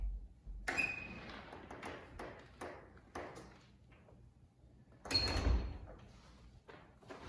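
A door is handled with sharp knocks, clicks and a bright metallic ping, followed by a louder clattering burst a few seconds later, all fairly quiet and close, with no speech.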